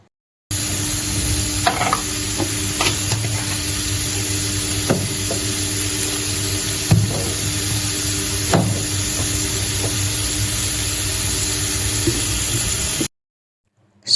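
Tomato-style sauce for pasta fries in a pan with a steady, close sizzle, while a spoon scrapes and stirs in occasional sharp clicks throughout.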